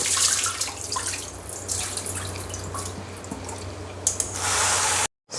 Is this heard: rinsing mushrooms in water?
yes